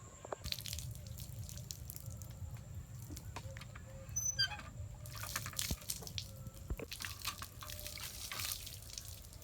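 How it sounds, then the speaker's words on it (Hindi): Water from a hand pump splashes and trickles in uneven bursts, close by, with faint dripping and a bird chirping in the background. "पहले पानी पियेंगे नलके से"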